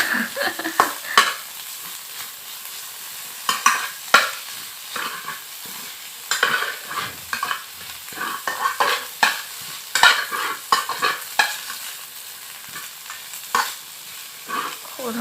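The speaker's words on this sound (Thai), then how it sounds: "คนๆให้รู้สึกว่าผักมันสุกแล้วนะ" Vegetables frying in a pan at breakfast, with repeated close scraping and clattering stirring strokes over a low sizzle, irregular bursts throughout.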